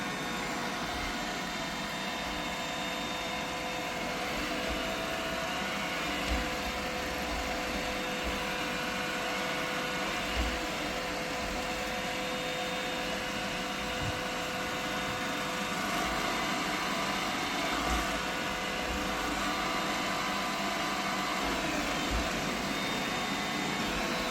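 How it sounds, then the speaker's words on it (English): An iRobot Roomba 960 robot vacuum with faulty wheels spins in circles, giving a steady, even motor whir and brush hiss that holds throughout at a moderate level with no talking. "it just keeps on going around in circles."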